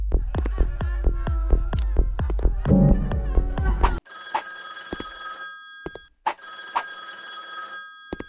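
In a horror video game, a telephone rings loudly in repeated bell bursts, heard after a stretch of plucked, percussive game music.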